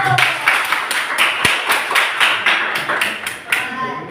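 A small group joins in clapping during a classroom-style cooking activity, producing quick, fairly rhythmic claps up close, with voices chattering underneath.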